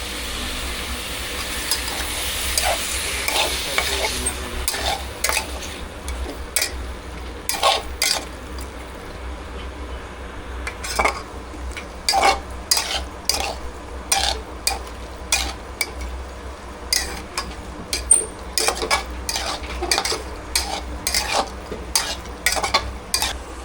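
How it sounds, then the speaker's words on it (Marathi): Chicken coated in ginger garlic paste stirred and sautéed in onion tomato masala, a low continuous sizzle with repeated scraping spoon strokes against the pan, close and steady. "आलं लसूण पेस्ट लावून जे चिकन ठेवलेलं ते आपण डायरेक्ट याच्यात टाकून घेऊया आणि ते पण आपण परतून घेऊया"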